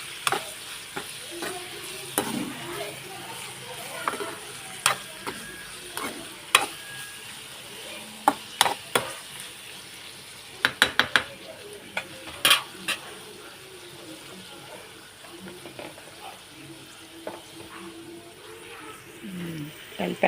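Cluster bean fry being stirred in a pan: a soft continuous sizzle under sharp scattered clinks and scrapes of a utensil against the pan, some bunched in quick flurries, with light talk in places.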